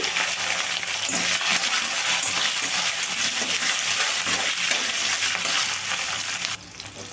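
Torn green chillies hitting hot oil, a loud, dense, close crackling sizzle with stirring that holds steady, then drops slightly near the end.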